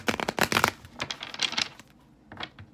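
A deck of tarot cards being shuffled up close, with rapid riffling bursts and softer slides in quick clusters, then a pause and one final short shuffle.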